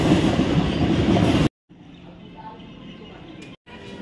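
A train pulls into platform 1 at Brahmapur station, a loud, dense rumble of wheels and cars dominating the first moments before cutting to a quieter platform ambience with a distant low clatter and faint voices.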